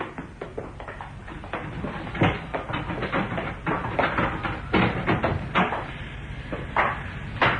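In a radio drama scene, a door is unlocked and opened: a close run of clicks, rattles and knocks, suggesting a key working the lock and the handle turning, then the door moving, with no voices.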